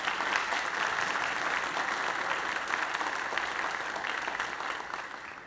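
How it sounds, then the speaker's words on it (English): An audience at a school district program applauds steadily with dense, sustained clapping that holds at a fairly even level and tapers slightly toward the end. "One more round of applause."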